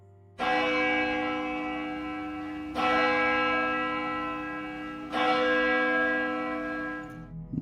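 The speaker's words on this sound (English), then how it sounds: "I hear loud bells echoing throughout the church upstairs." Church bells sound from upstairs in a church, three loud, resonant strikes at even intervals, each ringing out and slowly decaying before the next.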